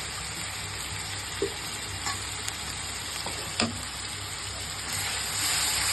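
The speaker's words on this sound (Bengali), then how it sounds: "এইভাবে দিয়ে আমি ভালোভাবে একটু কষিয়ে নিব আর একটু সরিষার তেল দিয়ে দিই" Masala sizzling and frying steadily in mustard oil for a Bengali mustard hilsa curry, a continuous close crackle with a few faint spoon scrapes and no talk.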